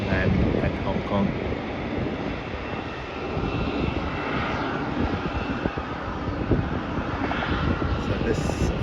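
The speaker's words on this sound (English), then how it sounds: "So this flight that's just landing now is a flight from Ho Chi Minh City, Boeing 787, and that is with Jetstar" A Jetstar Boeing 787 lands at Melbourne Airport, its engines roaring steadily in the distance through wind buffeting the microphone.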